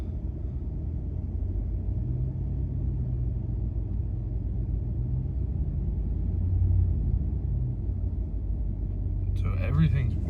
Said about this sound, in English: So the truck's running, as you can see.